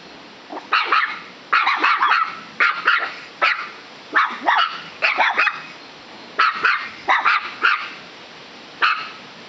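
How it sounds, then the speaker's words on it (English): Dogs bark in quick, repeated bursts and short clusters, loud and close, with brief pauses between volleys and no talking. "what are they barking?"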